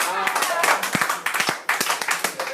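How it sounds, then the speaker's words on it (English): Audience clapping at a comedy open mic, short scattered claps mixed with crowd noise and a comedian's talking over it. "That's a weird thing to clap to."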